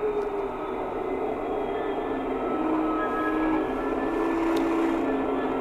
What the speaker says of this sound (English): Obviously on a model railway layout, you don't want to wait 2 or 3 minutes for your loco to warm up.